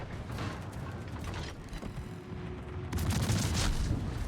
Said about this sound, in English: Oh, he's shooting you!